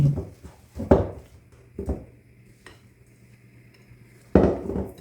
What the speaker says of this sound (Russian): И все аккуратно, так, потихоньку вмешивать наши белки.